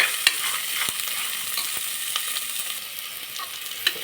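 Peas and field beans fry in a pan for masala sambar, giving a steady, moderately loud sizzle with faint crackles and a few sharp clicks of a stirring utensil against the pan, and no voices.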